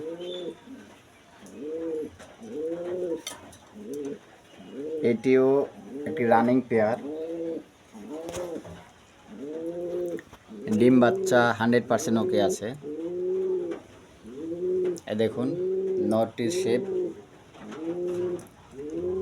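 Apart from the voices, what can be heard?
pair of blue bar beauty homer pigeons cooing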